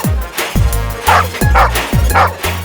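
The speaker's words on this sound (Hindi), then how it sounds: "भौंक क्या रहा है?" A dog barks repeatedly in short, loud, evenly spaced yelps, close to the microphone, with no talking over it.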